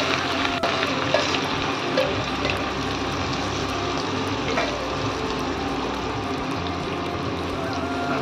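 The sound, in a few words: Kolhapuri red chili thecha frying in hot oil with mustard seeds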